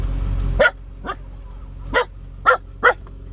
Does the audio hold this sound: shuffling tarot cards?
no